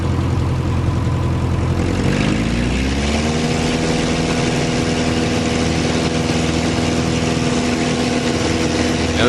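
A small airplane's piston engine runs loud and steady on the runway before a solo takeoff in an 8 mph crosswind, with carb heat applied, its drone rising in pitch after a couple of seconds and then holding.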